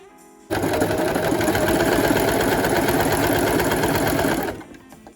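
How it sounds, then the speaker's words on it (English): A sewing machine runs in one steady, fast burst of stitching lines across a denim bucket hat made from old jeans, starting abruptly and stopping just before the end, close and loud with no talk. "we're just gonna be stitching 3 straight lines across"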